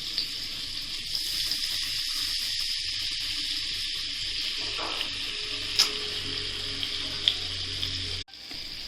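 Butter and sunflower oil sizzle in a hot pan for pav bhaji, a steady bright hiss close up with a few small clicks and taps, ending in a sudden cut near the end.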